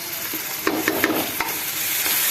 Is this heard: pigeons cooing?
no